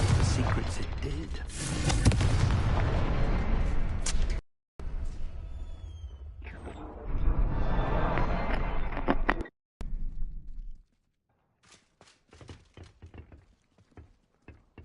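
Fiery Confringo spell blasts in Hogwarts Legacy erupt as loud roaring bursts separated by abrupt silences, then give way to quieter clicks and knocks near the end.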